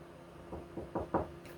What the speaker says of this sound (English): I'm knocking on wood